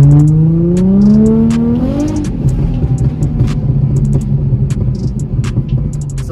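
A Nissan 350Z with test pipes on the factory exhaust revs up loudly and then drops back, followed by a rough idle with rapid popping and burbling crackles, close by.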